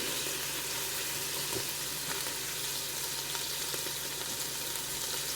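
Ground beef frying in a Ninja Foodi pot, being pressed flat for shepherd's pie, gives a steady, even sizzle close by with no talk, and a few faint scrapes stand out against it.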